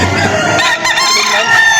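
A rooster crows loudly and close at a chicken market in Lipa, Batangas, one long strained call with other fowl clucking around it.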